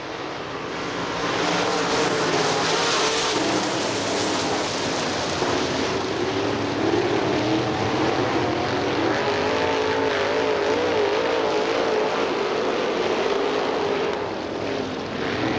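Late model race cars thunder around Butler Motor Speedway in a dense, continuous roar of several engines, loud and sustained with shifting pitch as the pack passes.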